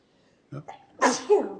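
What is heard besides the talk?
sneeze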